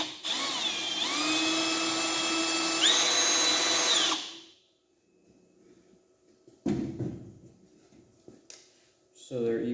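Milwaukee M12 Fuel brushless hammer drill/driver and M18 brushed drill/driver bore into soft wood, a loud sustained whine rising in pitch for about four seconds, then quiet handling clunks and a short burst of motor noise at the end.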